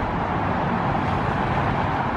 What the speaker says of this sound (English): the freeway noise we're experiencing here, right next to the Interstate 8.